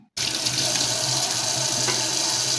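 A kitchen tap suddenly opens and runs in a steady, full rush into the sink as chicken is rinsed for a budget kaldereta.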